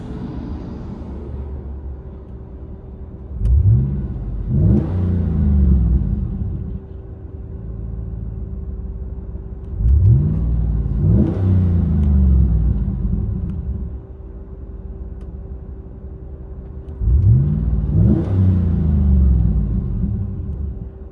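Deep, throaty exhaust rumble of a GMC Yukon Denali 6.2L V8 with a Flow FX exhaust, heard from inside the cabin, swelling in three revving bursts between steadier low droning stretches.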